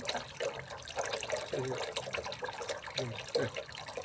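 Water runs from a tap into a container during a flow-rate measurement, a faint, continuous splashing and trickling with gurgling changes as the level rises, under soft background sounds.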